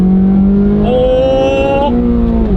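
8th-generation Honda Civic Si engine pulled hard at full throttle, revs climbing steadily into the VTEC range around 6,000 rpm, a loud, continuous rising engine note that shifts character partway through and then eases off near the end.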